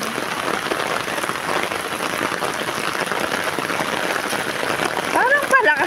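Heavy rain pours steadily on an outdoor walk, a dense, even hiss of drops on surfaces that holds at full strength throughout and swells slightly near the end.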